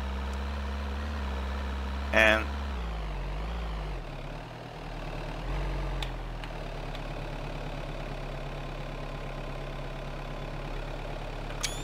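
A truck engine idles with a steady low rumble in a rock crawling video game, its pitch dipping briefly before settling, with a sharp click and a few faint spoken words over it.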